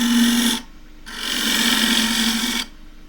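A half-inch spindle gouge cutting splintery she oak on a wood lathe, two steady loud bursts of shaving noise over the motor's hum with a short pause between.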